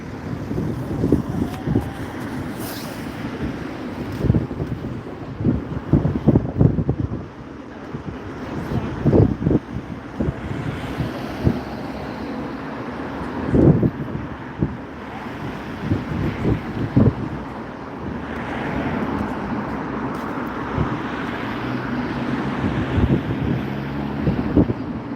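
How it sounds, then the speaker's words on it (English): Strong wind gusting by the sea at Weymouth, roaring and buffeting the microphone in loud, uneven bursts over a constant rushing background, with no voices. "it is very, very windy"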